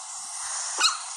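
A faint, thin wolf yelp from Minecraft rises briefly over a steady band of high hiss, sounding small and distant.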